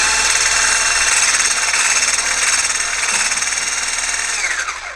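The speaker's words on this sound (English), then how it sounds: "we have cooled it and now we're whisking" A mixer whisks cooled oil into whipped shea and coconut body butter, a loud, steady motor whir with a fine pulsing texture that winds down just before the end.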